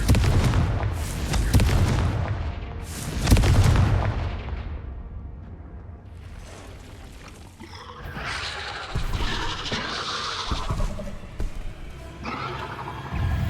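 Booming fiery blasts of the Confringo spell in Hogwarts Legacy, a few heavy impacts close together early on, then a more crackling, busy stretch of magical combat effects later.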